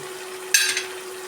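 Asafoetida powder and salt hit a hot pan for a Kerala sadya-style lemon pickle with vinegar. A sudden bright sizzle bursts out and quickly tapers within a second over a quiet background hum.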